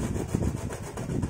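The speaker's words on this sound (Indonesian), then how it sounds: "Ini kemudian kita potong dan kita amplas pada bagian ujungnya supaya" A short length of wood being cut and sanded at its end, a brief rough, rhythmic scraping and rubbing, close and steady, with no talking.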